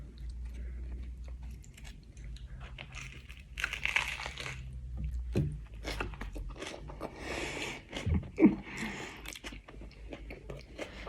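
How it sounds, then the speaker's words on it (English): Close, crunchy bites and chewing of an egg omelette sandwich on toast with tomato and lettuce, irregular munching and soft crinkles with a sharper crunch near the end, plus a brief spoken word. "Sorry if you don't like that munching noise."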